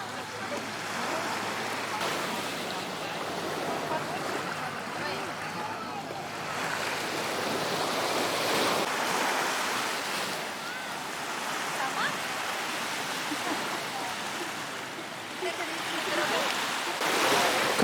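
Gentle sea waves wash steadily on a calm Koh Samui beach, a soft continuous surf hiss with slow swells, with faint speech now and then.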